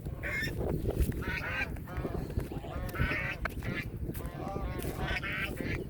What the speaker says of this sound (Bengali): দেখছেন রাজহাঁসের আওয়াজ, আর আমি কাছে আসছি, এজন্য তারা ডাকাডাকি করছে